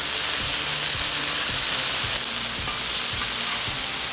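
Steak searing in a hot pan for a brunch, a loud continuous sizzle and crackle with faint scraping of stirring underneath, close up.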